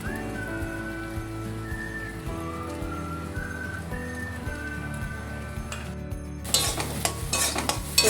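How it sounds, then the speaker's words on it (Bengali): Ground roasted spices (cumin, coriander, dried chilli, fennel, black pepper) being stirred into a potato cutlet mixture, giving a steady scraping rhythm with soft repeated knocks throughout, and louder clattering toward the end. "তো দিয়ে আমি এটা একটু নাড়িয়ে নেব।"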